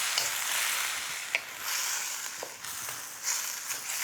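Soaked noodles stirred into a hot sizzling pan for a Nonya-style Malaysian dish, a steady bright hiss of frying with scraping spatula clicks and occasional sharper taps, close and fairly loud, no voices.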